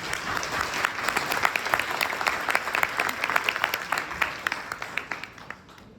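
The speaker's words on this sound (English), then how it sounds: "Please join me in a final round of applause." A final round of applause for two speakers at a localization industry conference session. Dense, loud clapping from a sizable audience with crisp individual claps, sustained throughout and tapering toward the end.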